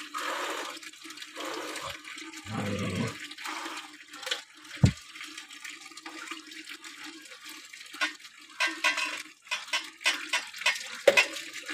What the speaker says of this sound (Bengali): একদম টাইম কলের জল দিয়ে স্নান চলছে